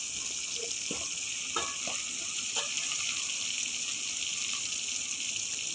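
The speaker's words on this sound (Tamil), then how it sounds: "இப்போ இந்த தக்காளி வெங்காயம்லாம் நல்லா வதங்குற அளவுக்கு நம்ம கொஞ்சம் நேரம் இதை வதக்கணும்" Tomatoes and onions sauté in hot oil for a bone-in chicken gravy, giving an even, continuous sizzle, with a few soft stirring clinks early on.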